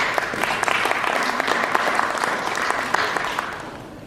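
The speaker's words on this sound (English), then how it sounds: "can I hear a round of applause for the sponsors and for the supporters" A conference audience applauding for sponsors and supporters, dense sustained clapping with a few sharper claps standing out, steady and fairly close, tapering slightly at the end.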